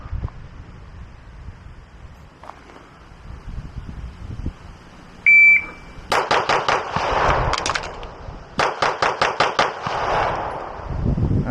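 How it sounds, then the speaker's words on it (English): A Taran Tactical JW4 Pit Viper pistol is fired outdoors after a shot-timer beep: a fast string of sharp, loud shots, a short pause for the reload, then a second rapid string, each shot ringing with echo. "So now we're going to do 4 rounds, reload, 6 rounds."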